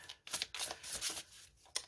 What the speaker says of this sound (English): Am I shuffling so hard? I'm shaking the desk.